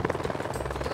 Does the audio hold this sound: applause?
no